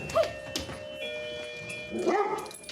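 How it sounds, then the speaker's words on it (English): Several dogs at a family home bark and yip in short bursts, with a whimpering, whiny vocalization near the end, close to the listener with little else around. "Look at all the bloody dogs that run me over"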